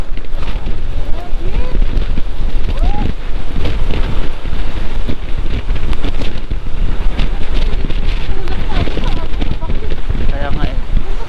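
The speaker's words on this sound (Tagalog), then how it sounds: "ang lakas ng hangin." Strong wind buffets the microphone in a steady roar with rushing noise during a motorcycle ride, and voices talk intermittently underneath.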